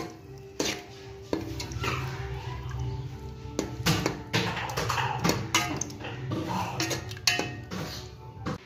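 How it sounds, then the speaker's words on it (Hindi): Tinda sabzi with chopped coriander being stirred in a pot, with repeated metallic scrapes and clinks of a spoon against the vessel at an uneven rhythm, close and fairly loud with no talk. "इससे मैंने धनिया चॉप करके डाल दिया है और अब मैं इसे मिक्स कर लूँगी।"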